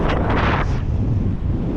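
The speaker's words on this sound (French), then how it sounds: "Le vent ascendant" A strong updraft gusting outdoors on a ridge roars steadily and loudly against the microphone, a heavy low rumble with a brief airy hiss at the start.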